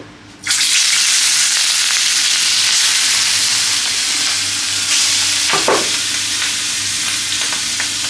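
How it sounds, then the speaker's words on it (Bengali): Shrimp fry in hot refined oil for a shrimp chop, giving a loud, steady sizzling hiss that starts abruptly and holds throughout, with a brief spatter burst near the end. "বন্ধুরা, তেল গরম হয়ে গেছে, এখন চিংড়ি মাছগুলো আস্তে আস্তে ভেজে নিব।"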